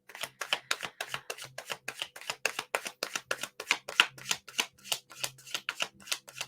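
Tarot cards being shuffled in a steady, brisk run of riffling flicks, close and fairly quiet, with no talking.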